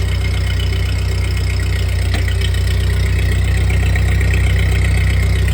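A 1948 Ford 8N tractor engine runs steadily close by, a loud, even low rumble with a rhythmic pulse and no breaks.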